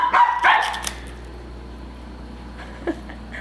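A corgi attacking a stuffed toy dog lets out a burst of loud, close barking and growling at the start, then goes quiet apart from one faint snap later on.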